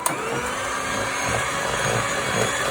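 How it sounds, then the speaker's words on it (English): Cake batter being whisked in a bowl, heard as a steady, continuous whirring motor-like drone with no talk. "going to give it another little whisk so that it's a little bit smoother"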